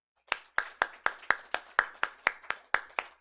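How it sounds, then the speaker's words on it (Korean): A single pair of hands claps in a steady, evenly spaced rhythm, about a dozen sharp claps close by in a Sunday church service, with no voices. "박수 한번 합니다."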